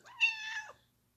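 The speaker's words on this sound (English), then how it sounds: "that's my cat." A single cat meow, close and clear, drawn out for about half a second against a quiet background.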